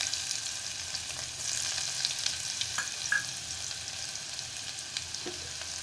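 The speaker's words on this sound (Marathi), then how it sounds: "बारीक चिरून घेतलेला कांदा घालत आहे" Finely chopped onion fries in hot oil for a Malvani crab curry, giving a soft, steady sizzle with faint stirring scrapes and small pops, heard up close without talk.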